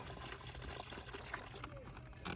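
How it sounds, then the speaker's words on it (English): Wheel cleaner pours into a bucket of water beside a dirty tire, a soft trickling, splashing liquid sound that runs continuously and fairly quietly, close by. "And I'm going to put some of this in the water."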